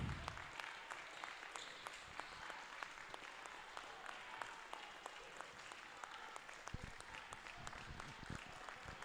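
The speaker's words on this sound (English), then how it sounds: "And the fans are up, giving our seniors a round of applause, well deserved." Fans at a junior varsity high school basketball game on Senior Day applaud the seniors near the end of the game, a steady, fairly distant patter of many hands clapping across a gym.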